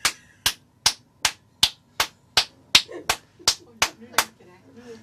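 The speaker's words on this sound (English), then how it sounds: "Please clap the amount of corresponding to your selected floor." A quick run of about thirteen sharp, close hand claps in an elevator, evenly paced, with soft voices murmuring underneath partway through.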